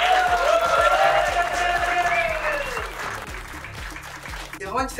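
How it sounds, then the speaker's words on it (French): Crowd at a sales team event in France applauds warmly, a dense wash of clapping that fades gradually, with loud voices and cheering over it and a rhythmic music beat underneath. "un tonnerre d'applaudissements pour toi, Amandine."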